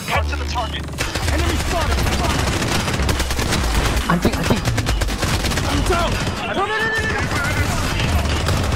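P90 gunfire in the shooter game Blood Strike comes as dense, rapid automatic bursts that run almost nonstop and loud through the whole stretch, mixed with other game effects and occasional voices.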